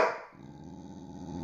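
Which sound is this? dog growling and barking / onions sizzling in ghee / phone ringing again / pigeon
dog growling and barking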